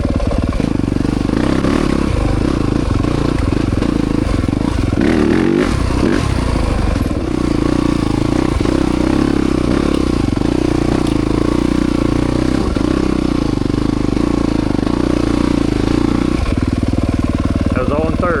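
A Yamaha YZ300FX dirt bike with a 304cc Athena big bore kit and GET Boost labors up a climb in third gear, its engine loud and close, chugging with low grunt and brief revs, plus some clatter.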